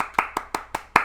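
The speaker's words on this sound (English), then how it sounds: "Big round of applause." Five crisp, evenly spaced handclaps from a single pair of hands close by, welcoming a musician on a socially distanced online show.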